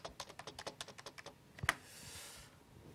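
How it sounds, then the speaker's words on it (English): Someone types a password on a computer keyboard, a quick run of about a dozen close, crisp key clicks, then one louder sharp keystroke and a soft hiss, with no talking. "You can enter your password."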